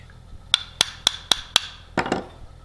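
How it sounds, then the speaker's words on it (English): Five sharp, evenly spaced metallic taps of a brass hammer on the steel blade of a scrub plane, ringing briefly, followed by a quick cluster of softer knocks and scrapes. "A brass hammer, then you don't end up mushrooming the back end of your steel blade"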